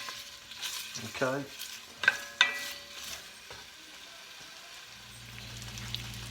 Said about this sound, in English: So we're just going to mix this stuff around in our pot here.